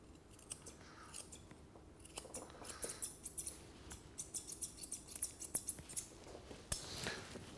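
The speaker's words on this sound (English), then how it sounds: "Using the curved scissors helps you get around" Rapid, rhythmic snips of curved scissors trimming a Cockapoo's coat in a teddy bear cut, close and crisp, repeating steadily for several seconds without speech.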